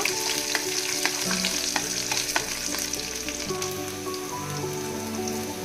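Ginger and garlic hit hot oil in a pan already frying cumin, cloves and cinnamon, giving a steady close sizzle broken by the scrape of stirring, with no voices.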